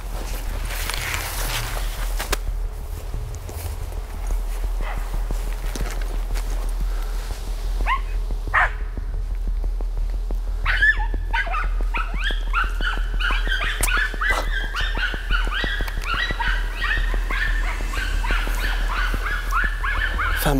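A hunting dog named Boris bays at wild boar in a forest, its barks and yips carrying from a distance in uneven bursts over steady wind and low rumble.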